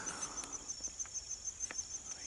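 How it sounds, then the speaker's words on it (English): Crickets in a September garden chirp in a steady, regular high-pitched pulse, close and clear, with a few faint clicks and rustles underneath and no talk. "So crickets."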